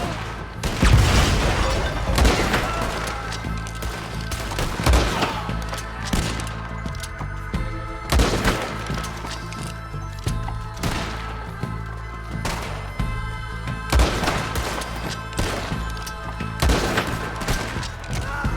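Gunfire in the video game Red Dead Redemption 2, a loud barrage of repeated gunshots and heavy booming impacts spread across the whole stretch, with no one speaking.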